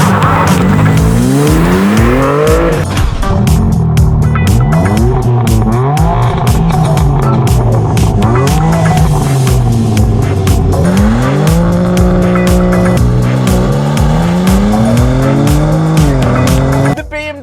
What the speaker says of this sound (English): I'm gonna launch the all new BMW M4.